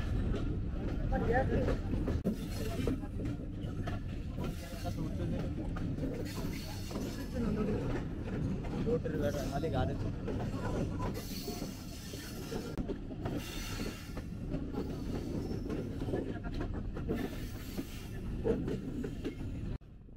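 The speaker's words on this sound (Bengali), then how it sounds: "রাজশাহী কমিউটার ছেড়ে দিল আরানি রেলওয়ে স্টেশন" Rajshahi Commuter passenger train running just after leaving Arani railway station, a continuous close rumble with rhythmic clickety-clack of wheels on rails and occasional wheel squeal, with voices mixed in throughout.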